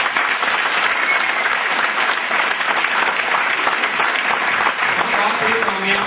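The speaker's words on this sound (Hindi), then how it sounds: "मैं चाहूंगा एक बार उनके लिए भरपूर तालियां बजाएं" An audience at a GMI event in Rawalpindi, Pakistan, applauds for teacher Kamran Farooq: loud, dense clapping from a large crowd that stays constant throughout.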